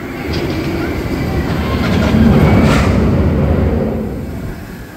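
The Towers Train at Alton Towers amusement park rumbles past with rhythmic clacking wheels, growing louder as it nears and fading as it rolls away.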